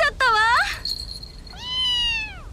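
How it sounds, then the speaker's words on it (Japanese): A cat meows twice while batting at a shuttlecock, each meow a clear, rising-and-falling call at close range with a faint high tone between them. "あら、かわいい猫、シャトルコックにじゃれついてる。"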